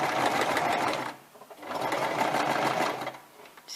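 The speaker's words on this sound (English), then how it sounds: "I'll move the pins up again so that you can see that the sewing machine is actually going to jump them." A sewing machine stitches a seam slowly, running over pins, a close steady mechanical whir in two runs with a brief pause between them.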